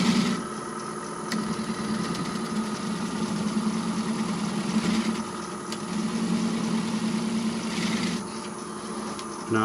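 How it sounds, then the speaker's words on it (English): A wooden bowl spins on a lathe as a tool shear-scrapes it during tenon removal with a Longworth chuck, giving a steady, moderately quiet motor hum with a continuous scraping texture throughout. "And now I'm shear scraping."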